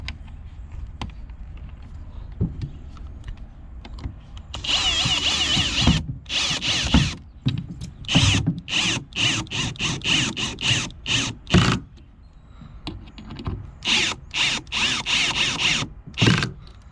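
A cordless power drill drives screws into boat fiberglass and plastic on a 2007 Chaparral Sunesta 214, heard up close as loud bursts of whirring with short pauses, then a rapid series of stuttering pulses.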